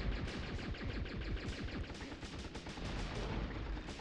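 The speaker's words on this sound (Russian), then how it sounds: "В ноги же стреляю." Gunfire in the PlayStation game Apocalypse: a rapid, unbroken stream of close, echoing shots fired in quick bursts for several seconds, with no voices.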